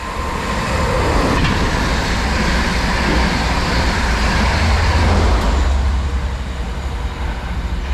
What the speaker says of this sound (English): we've got a Transport for Wales service to Manchester Piccadilly from Cardiff Central